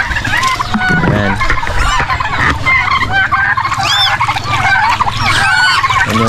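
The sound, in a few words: geese honking at the farm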